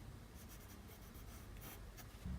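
Pencil drawing lines on paper, quiet close scratchy strokes in short bursts, no talking.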